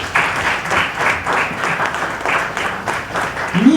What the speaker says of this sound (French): Je vous demande de les applaudir chaleureusement.